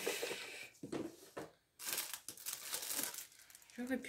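Transparent ribbon handled up close, with crinkling and rustling bursts and a brief quiet pause midway, under soft background talk.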